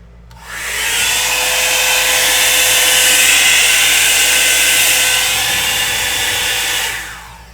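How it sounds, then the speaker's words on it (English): A hair dryer switches on and blows with a steady, loud whooshing hum for several seconds, then cuts off. "And next our hair dryer, which I need to clean."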